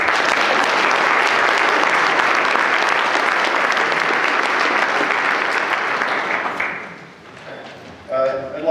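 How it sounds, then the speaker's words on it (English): Dense audience applause after a plenary talk at a scientific conference, loud and steady for about six seconds, then thinning out to scattered claps and faint voices. "I'd like everybody to give another round of applause for our speakers today."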